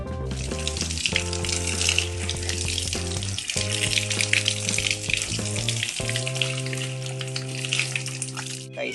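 Water runs steadily over banana bark as it soaks, a continuous broadband hiss heard under prominent background music.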